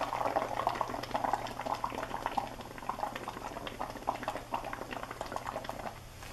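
Continuous dense bubbling and gurgling of air blown through a straw into soapy liquid to build a foam of bubbles for a Halloween bubble ghost activity, steady and close for several seconds with no talking.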